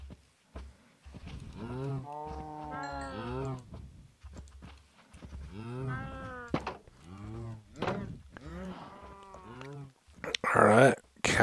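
Cows moo in the Minecraft video game, a few low drawn-out moos mixed in with someone talking steadily throughout.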